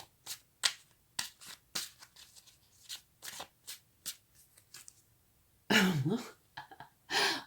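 Tarot cards being shuffled by hand: quiet, irregular soft riffles and slaps in short bursts, then a louder rustling flurry near the end, close up.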